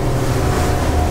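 Capelli Stradivari 43 boat powered by twin Yamaha 425 hp outboards runs at speed, a loud, steady roar of engine, water rush and wind noise with no talk.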